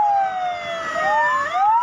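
A fire engine siren wails loud and steady on a highway, its pitch sweeping down and then back up, with no voices over it. The truck is one of three units sent to a burning cargo lorry.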